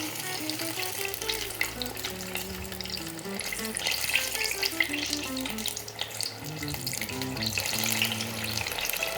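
Battered artichoke hearts deep-fry in a fryer basket, giving a steady, dense sizzle and bubbling that runs throughout under background music, with no voices.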